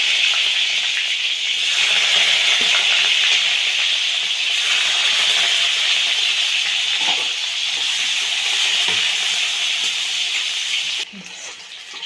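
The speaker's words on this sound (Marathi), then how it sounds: "तर तेल गरम झालेलं आहे. जिरे टाकून घ्यायचे थोडेसे आणि याच्यानंतर 1 कांदा बारीक कट करून घेतलेला आहे, तो कांदा टाकते." Finely chopped onion frying in hot oil with cumin, giving a loud, steady sizzle and hiss that runs continuously, easing slightly near the end.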